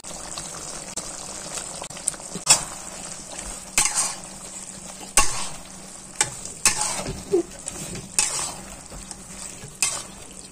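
Squid and shrimp sizzle and fry in a hot wok for a Thai-style paprik stir-fry, with a steady hiss broken by repeated scraping clanks of the spatula tossing the food, close and lively.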